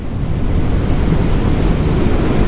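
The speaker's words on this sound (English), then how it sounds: "You guys probably can't hear anything because there's wind" Steady, heavy wind roar buffets the microphone while riding a Voge 350AC motorcycle, a loud broadband rush that fills the clip and buries any engine sound.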